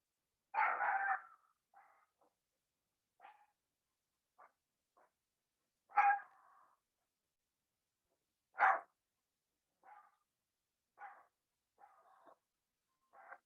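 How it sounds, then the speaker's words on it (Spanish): A small female dog barks in scattered single yaps and short bursts at a distance, with quiet gaps between them. "Ya nos pusieron música ahí con una perrita que está ladrando."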